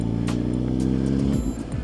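A 2015 Suzuki GSX-R1000 sport motorcycle rides through urban traffic on the outskirts of London, its engine droning steadily up close before the pitch drops and shifts as the rider eases off, with a few sharp ticks over the top.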